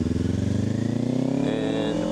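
Kawasaki Ninja 500 motorcycle with stock muffler, engine exhaust droning steadily up close as the pitch rises under acceleration, a buzzy moped-like tone loud and continuous.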